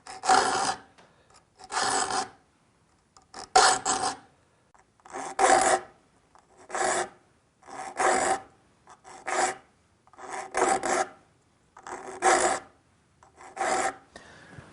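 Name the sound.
file sharpening rip saw teeth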